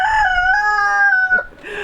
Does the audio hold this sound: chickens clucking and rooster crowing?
yes